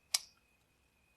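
Computer mouse button releasing, a single sharp faint click near the start, then near silence.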